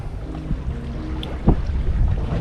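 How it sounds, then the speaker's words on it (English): A sailboat under regular sails, with no light-wind sails set, moves along steadily, giving continuous rushing water and wind noise, close and fairly loud, with a few splashes, and no talk. "that's just with our regular sails, no light wind sails, and she's just scooting along"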